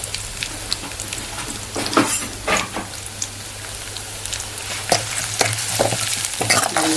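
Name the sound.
sautéing onions and spices in a pan for tomato rasam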